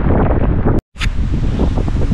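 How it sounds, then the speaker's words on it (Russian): Loud wind buffets the microphone over the rush of waves on a canal, with a brief dropout in the middle before the roaring continues. "Ветер так и не хочет успокаивать. Ветер пришел. Волна такая поднялась."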